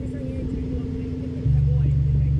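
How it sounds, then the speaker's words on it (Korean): A McLaren with active exhaust sound tuning rumbles low and close, then steps up into a louder, deeper drone partway through, with someone talking over it. "폐기음 소리를 시작하겠습니다. 맥라렌 소리입니다."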